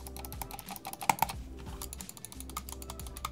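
A Logitech G304 wireless gaming mouse is clicked repeatedly up close, giving quiet, hollow-sounding clicks in a quick irregular series.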